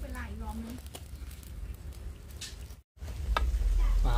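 Pork leg simmering with chamuang leaves in a pot, cooked in traditional Rayong style: steady close bubbling and sizzling hiss, with a voice talking over the start and a brief dropout partway through.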